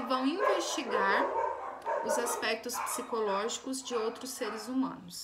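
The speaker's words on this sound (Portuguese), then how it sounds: "peço desculpa pelo barulho dos latidos dos cachorros" Several pet dogs barking at home, repeated barks and yips sounding under and between continuous close speech from a person talking indoors.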